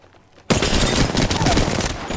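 Apex Legends gunfire bursts in suddenly after a quiet start, a dense, loud, continuous fusillade of rapid shots that keeps going to the end.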